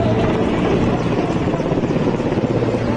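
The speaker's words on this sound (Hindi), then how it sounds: "भोपाल में मेडिकल टीम पर हेलीकॉप्टर्स ने फूलों की बारिश की" A military helicopter flies overhead during a flower-petal salute to medical workers in Bhopal, a loud, steady, close rotor roar that fills the whole three seconds without speech.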